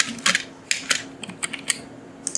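Fingers tap a computer keyboard in short bursts of clicky keystrokes, close and crisp, with uneven pauses between strokes while modelling in Rhino 3D.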